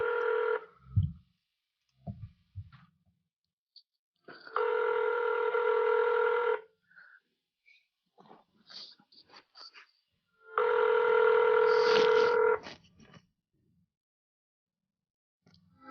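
Telephone call tones: two long, steady ringback buzzes about two seconds each, separated by a gap with faint clicks and low thumps, heard clearly over near silence.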